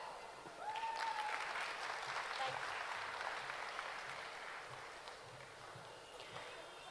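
An audience at a school pre-primary annual day applauds, a steady wash of clapping that swells quickly and holds, then slowly fades, heard from a distance in a large space.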